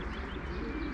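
Racing pigeons returning to a loft near Szczecin coo softly, a brief low cooing heard close over a steady background hum, with no talking.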